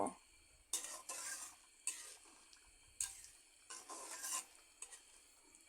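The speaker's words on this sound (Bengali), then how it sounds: "এবার ধনিয়া পাতার সাথে ডিমের গুলোকে ভালো করে মিশিয়ে নেব" Spoon stirring through egg curry with fresh coriander leaves in a pan, a few separate scraping strokes with soft sizzling between them, close by and fairly quiet, with no talking.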